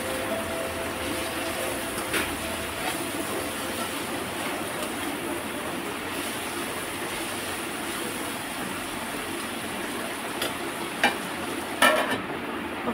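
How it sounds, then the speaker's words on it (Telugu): Boda kakarkaya curry stirred in a pan after salt is added, a continuous close frying hiss with faint scraping and a few spoon knocks toward the end, no speech. "సాల్ట్ వేసుకొని బాగా కలుపుకోవాలి."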